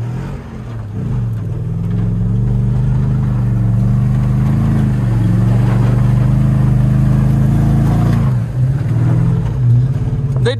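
A Toyota Tundra gas pickup truck drives off-road, its engine humming loud and close with steady revving that dips briefly and then climbs again.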